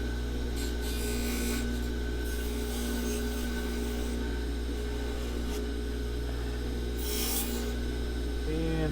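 Continuous motorized whine of a wire wheel power tool with a rough abrasive scraping texture, running steadily and loud throughout.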